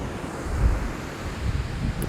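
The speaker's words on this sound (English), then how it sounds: "now they're letting the water out." Water pours out of a canal lock in a low, churning rumble with slight surges, wind-buffeted and steady, with no one speaking.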